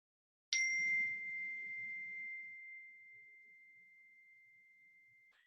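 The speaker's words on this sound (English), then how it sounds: "sound of the bell." A meditation bell is struck once, ringing with a clear, pure tone that sustains and slowly fades over several seconds in a quiet room.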